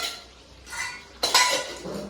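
A spoonful of desi ghee going into a pan for palak paneer, with close metallic spoon and pan clatter followed by a brief soft sizzle.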